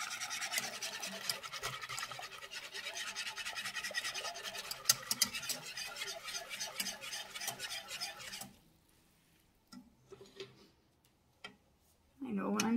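A whisk scraping and clicking against a bowl while mixing cocoa and sugar for chocolate ice cream, fast steady ticking strokes for several seconds, then stopping, with a few faint knocks afterward.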